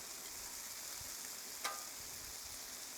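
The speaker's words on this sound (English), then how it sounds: "I like to turn the bacon several times to get it that nice and crispy level that we'd like to keep it at" Bacon fries on a Blackstone griddle with a steady, even hiss, quiet and constant, broken once by a brief metallic scrape as a strip is turned.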